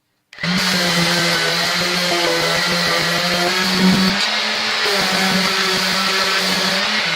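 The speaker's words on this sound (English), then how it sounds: "I got 80 grit on here. So it's going to take off some wood, which is what we want." Power sander with 80 grit paper running steadily against a wooden guitar body blank, a loud continuous whirring grind with a strong motor hum, constant throughout with no talk.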